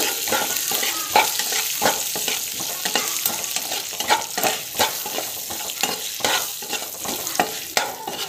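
Dried red chillies sautéing in a pan, a loud continuous crackling fry with a rapid, busy rhythm of spoon scrapes and stirring clatter throughout.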